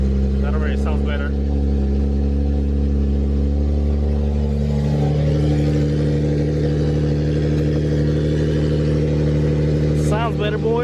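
A steady, loud, close engine drone comes from an Infiniti G35 with a VHR engine after a fuel-system repair, idling with a slight rev partway through while people talk over it.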